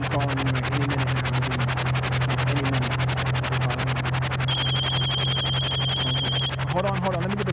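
A phone rings in repeated electronic bursts, loud and close, with a steady hum underneath and a brief voice near the end.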